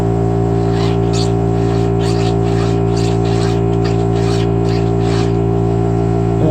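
A hand file rasps across chainsaw chain teeth in short, repeated strokes, about one per second, close up over a steady low machine hum.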